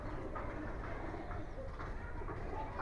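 A domestic pigeon in a fancy-pigeon loft in Keraniganj, faintly cooing in soft repeated low murmurs over a quiet background hum.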